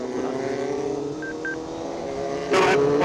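A white car passes a motorcycle on an uphill mountain road, engine drone steady under the rider's own bike, with a sharp burst of noise near the end as the pass closes in.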